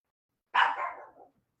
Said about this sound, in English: My dog is a Japanese chin.